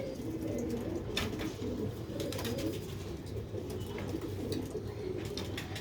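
Sialkoti rooftop pigeons coo continuously close by, soft overlapping throaty calls over a constant background rumble, with no talking.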